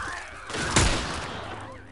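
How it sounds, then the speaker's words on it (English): Gunfire in The Last of Us video game: a single sharp shot bursts out mid-clip over a steady background of game ambience, loud and close, with a short decaying tail. "Make every shot count now."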